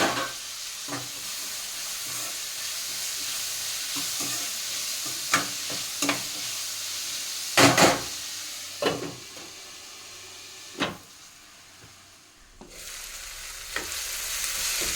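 Onions and tomato pieces fry in a pan with a continuous sizzle, broken by sharp, irregular scrapes and clacks of a spoon stirring close by; no voices.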